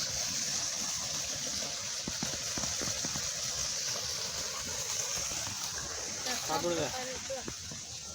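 Water gushing from a village tubewell, a constant broadband rush with a few splashy bursts, while someone speaks over it partway through.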